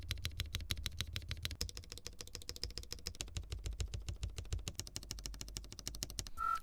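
Mechanical keyboard fitted with a POM plate and PE foam on the PCB, typed on steadily: a dense run of crisp, close clicks and clacks in a fast, even rhythm, heard alone without voices.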